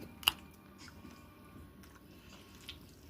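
Barbecue ribs are chewed close up with soft, wet bites and squishes, led by one sharp crunch near the start, all quiet and with no talking.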